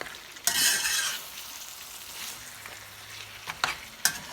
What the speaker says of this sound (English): we're gonna leave it to roast in these spices